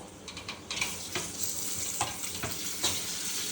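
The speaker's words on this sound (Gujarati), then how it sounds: "રાઈ નાખી દઈ જીરું લીમડો મરચી અને સૂકા મરચા તળ નાખી દઈ" Mustard seeds, cumin, curry leaves and green and dried red chillies crackle and sizzle in hot oil as a tempering, with sharp popping bursts over a steady frying hiss, close and alone.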